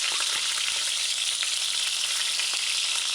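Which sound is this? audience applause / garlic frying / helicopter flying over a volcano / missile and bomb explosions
garlic frying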